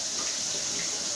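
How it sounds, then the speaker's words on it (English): Water pours steadily from a kitchen tap during hand washing, a soft, even rushing splash with no voices over it. "I'm gonna wash my hands."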